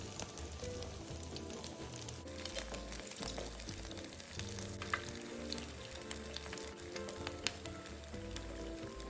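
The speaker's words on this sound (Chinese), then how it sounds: "油炸至糯米卷金黄色后即可离火。" Glutinous rice rolls deep-frying in hot oil give off a steady, quiet crackling sizzle with scattered pops, over a low tonal hum throughout.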